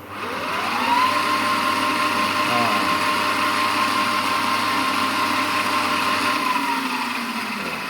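A BV20 small lathe spins up to its top speed of about 1,900 to 1,950 rpm, holding a steady, loud mechanical whine with a tonal hum before winding down near the end.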